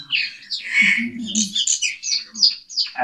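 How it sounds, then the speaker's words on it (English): A myna bird gives a varied series of chirps, whistles and squawky calls, loud and close, with no talking. "Bring back the myna."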